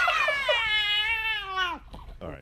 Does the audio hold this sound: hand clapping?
no